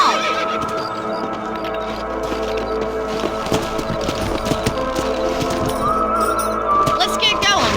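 Horses whinny and hooves clip-clop over steady ground noise in the video game Red Dead Redemption, with voices talking over parts of it.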